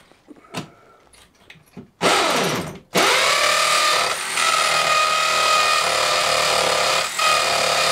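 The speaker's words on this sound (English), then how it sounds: "Alan, I've got 110 volt hammer drill, you know." A 110-volt hammer drill starts with a short burst, pauses briefly, then runs loud and steady close by for several seconds, with a faint dip partway through. Softer scraping and knocking come before it.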